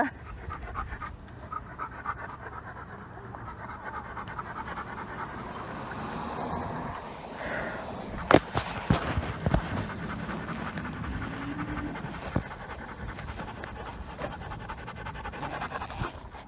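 A dog pants rapidly and steadily close by, with a few brief rustles and bumps partway through; no one speaks.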